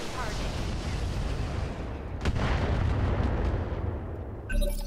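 Weapon fire in the video game Roguepoint, a dense, continuous roar of booming, rumbling blasts filling the whole stretch, with a brief electronic tone near the end.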